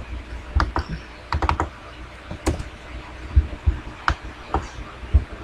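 Typing a VLOOKUP formula on a computer keyboard, with short bursts of key taps and a few heavier thumps in an uneven rhythm, close and moderately loud, no talk.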